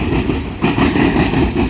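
Norfolk Southern 8102, a train carrying the Pennsylvania Heritage Unit, rumbles past close by in Ohio with steady heavy rail and engine noise, swelling slightly partway through.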